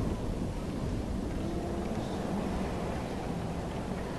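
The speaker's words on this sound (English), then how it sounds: "There's a lot of wind for some reason" Steady, broad wind rushing through a dark area in the game Bloodborne, a constant blustery roar with no breaks and no voices.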